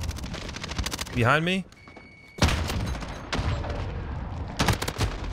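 Rapid bursts of M4 assault rifle fire in Modern Warfare, loud and close, with a speaking voice cutting in briefly between a short pause and further rattling volleys.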